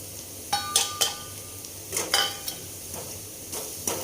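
Onion frying in a pan as salt, chili and turmeric go in for poha, with several short scraping and stirring clatters of a utensil over a soft continuous sizzle, fairly close.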